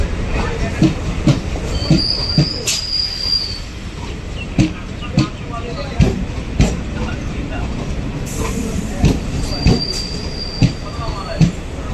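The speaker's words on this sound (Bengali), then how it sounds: "ট্রেন ছেড়ে দিয়েছে টালা স্টেশন।" A crowded Kolkata local train pulls out of Tala station and runs on the rails. Close, loud clickety-clack beats repeat at a steady pace over a rumbling bed, with occasional high wheel squeals.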